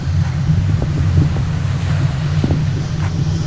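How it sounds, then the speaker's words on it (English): Wind gusts over the microphone on a beach, a loud, constant low rumble and buffeting, with faint surf behind it and no talk. "A little bit of wind today, hope you don't mind."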